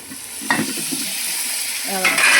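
Vegetables with turmeric are stirred and fried in oil for kaya achar, producing a loud, close sizzle. Spatula scrapes and clatters come at the start and again toward the end.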